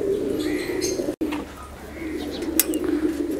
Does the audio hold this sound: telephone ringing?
no